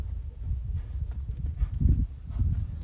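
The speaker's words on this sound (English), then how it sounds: "I like to lunge my horses up against the wall." Horse hooves clop on soft ground as a colt is lunged along a wall, producing a steady, muffled rhythm of close, moderately loud footfalls.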